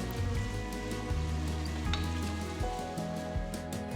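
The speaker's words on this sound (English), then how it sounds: "Mix well and saute until the onions are golden brown in color." Thinly sliced onions and slit green chilies sauté in a pan with a steady, close sizzle and faint crackle, no voices over it.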